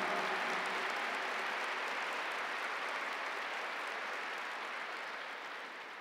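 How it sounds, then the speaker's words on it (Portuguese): A large church congregation at Mass applauds steadily, a dense wash of clapping that holds strong and then begins to taper off toward the end. "Aplaude a sua paróquia. Aplaude o seu padre."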